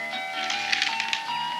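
Clattering typewriter keystrokes tap quickly in a short burst, moderately loud and close, over a steady faint background tone.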